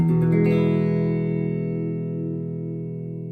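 A single electric guitar chord through a Harley Benton Tube15 amp with spring reverb rings out loud and sustained, a shimmery reverb tail trailing behind it as it slowly fades.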